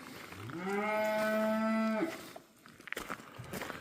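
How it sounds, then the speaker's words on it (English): A cow on a farm lets out one long, deep, steady moo at close range, followed by shuffling and clattering barn noises. "started feeding the cows grain again"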